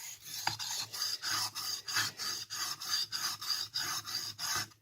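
A blade is stroked back and forth over a sharpening stone in a steady, rhythmic rasp, roughly three strokes per second, close and alone without any talk.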